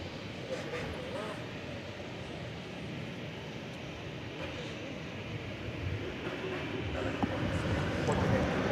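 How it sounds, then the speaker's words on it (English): A UPS Boeing 757 jet departs the airport, a steady broadband engine roar that holds throughout and swells slightly toward the end, with voices talking over it. "So once again, the UPS 757 is on its way to San Antonio."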